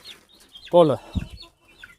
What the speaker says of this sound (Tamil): பெரிய கோழிங்க துரத்துதாட்டு தெரியுது